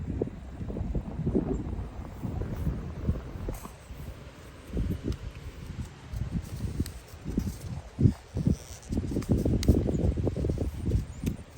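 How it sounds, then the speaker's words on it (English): Steady wind rushes and buffets outdoors, with gusts swelling and fading and some rustling, loud and close for the whole stretch. "It's just really windy."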